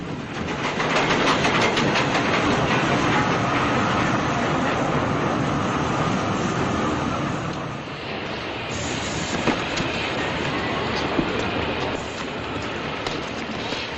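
A train at a railway station gives a steady, loud, broadband rumble that holds throughout, with faint rail clatter and no voices.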